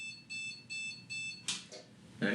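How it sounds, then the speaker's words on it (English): Motherboard POST beep from a desktop PC with an Intel Core i7 at first power-on after fitting a Noctua NH-D15 dual-fan CPU cooler: four evenly spaced, steady electronic tones, then a few short clicks and handling noises. "Okay, so I don't know what that beep is."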